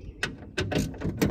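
Mechanical clicks and ratcheting from a tool loosening the window regulator motor bolts inside the door of a 2003 Honda Element, several short close bursts in an uneven rhythm.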